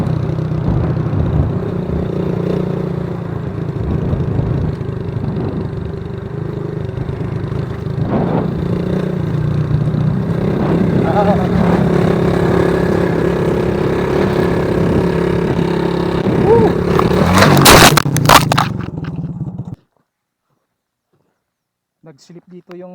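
A motorcycle rides along a rural provincial road, its engine droning steadily with wind and road clatter close by for about twenty seconds before cutting out abruptly, with a rider's voice mixed in.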